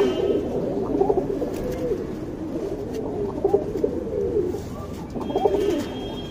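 Pigeons coo in a steady, low, rolling murmur, with soft repeated swells over a few seconds and faint flutters and chirps in the background.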